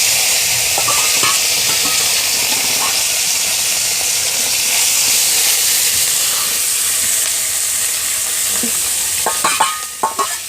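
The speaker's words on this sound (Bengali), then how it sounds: "এখন তেলের মধ্যে শুটকি মাছগুলো ছেড়ে দিচ্ছি" Dried fish dropped into hot oil in a wok, a loud, steady sizzle and hiss filling the whole stretch, with scraping stir sounds and a few sharp clatters toward the end.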